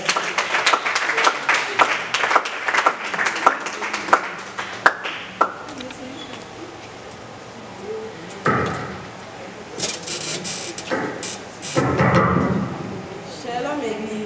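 Church congregation breaking into applause and cheering during a service, with bursts of clapping and shouts rising over a crowd, alternating with quieter stretches of tapping and murmuring voices.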